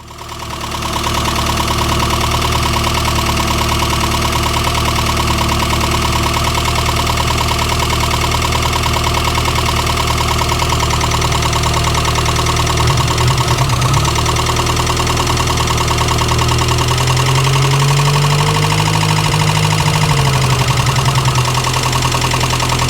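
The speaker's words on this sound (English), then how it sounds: "That's it getting warmed up and kind of the motor's telling the carburetor, hey, I need more." An engine on a Chevy Luv or C70 truck with a carburetor, running steadily at high idle while it warms up, loud and close. A constant drone holds throughout, and a brief wavering pitch change comes near the end.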